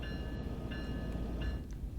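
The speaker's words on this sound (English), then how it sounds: "There's a freight train." A triple-headed freight train passing on a steep grade in a Train Sim World rail simulation: low rumbling rolling noise with faint tonal whines and light clicks, steady throughout and fairly quiet.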